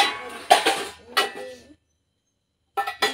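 Curry is served from a pot onto a plate with a few light clinks and scrapes of a spoon on dishware, in two short bursts separated by a quiet pause.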